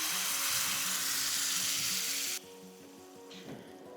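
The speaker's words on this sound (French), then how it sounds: "Et c'est flambé." Food sizzles loudly in a hot pan as it is flambéed with cold brandy beside a river, a strong steady hiss that suddenly drops to a quieter sizzle partway through.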